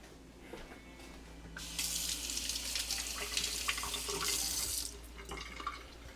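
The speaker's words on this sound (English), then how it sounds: "gotta go back and do a little more rinse on that one" A kitchen tap runs water over produce being rinsed, a steady hiss that swells louder for a few seconds, with faint splashing against the fruit and sink, close by.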